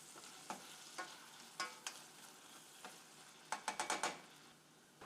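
Onions sautéing in a pan for a cheesy hash brown potato casserole, a soft steady sizzle broken by a run of quiet scrapes and taps as a utensil stirs them, with a quick cluster of stirring near the end.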